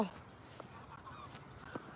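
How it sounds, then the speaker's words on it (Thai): A few faint, distant goose honks rise over a steady outdoor background hum. "เสียงห่านร้องเกียวเลย"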